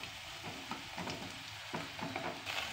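Eggplant fries in a pan with radish while being stirred, a faint, continuous sizzle broken by soft scraping strokes of the spoon at irregular intervals.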